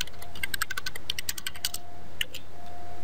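Rapid keystrokes on a computer keyboard as an IP address is entered during firewall setup, crisp close clicks in quick bursts with a short pause midway, no voices.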